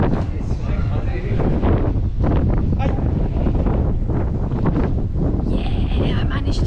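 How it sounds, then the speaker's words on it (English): Strong wind in Old Bari, Italy, buffets the microphone with a constant, loud low roar that runs the whole time, and a voice can be made out faintly beneath the gusts. "It's so windy."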